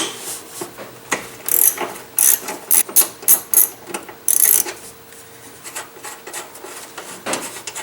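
A ratchet clicks in quick bursts as it backs a nut off the air filter box of a Dodge 4.7L engine. The close, crisp pawl chatter comes in several short runs separated by quiet pauses.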